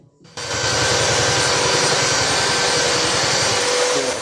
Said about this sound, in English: I think I'm just going to use the belt sander just to see how we go.